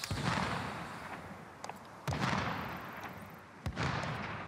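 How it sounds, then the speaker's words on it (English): In a shooter video game, an unsilenced gun cracks out in loud, sharp reports: several separate shots spaced a second or so apart, each with a short, bright tail ringing over background noise. "Unsilenced gun to the right"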